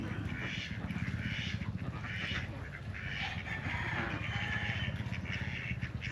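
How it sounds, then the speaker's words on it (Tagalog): A flock of ducks at a rural farm, kept under mango trees, keeps up a dense, continuous chorus of quacking and clucking fowl sounds close by, steady and loud throughout with no talk. "Yan guys, oh, ang daming itik."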